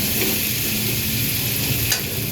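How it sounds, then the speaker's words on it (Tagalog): Chayote sautéing in cooking oil, a dense, even sizzle heard close and loud throughout, with one short scrape near the end and no voices. "Ibisa sa mantika yung sayote."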